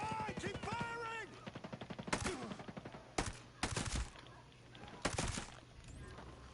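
Video game gunfire cracks out in several sharp bursts, some rapid like an automatic weapon, spaced a second or so apart, following a brief voice at the start.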